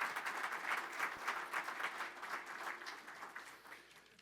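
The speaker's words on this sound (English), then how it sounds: "Let's give them all a round of applause." Conference audience at a clean energy event applauds steadily, a dense wash of many hands clapping that stays fairly even and slowly fades over a few seconds, with no voices over it.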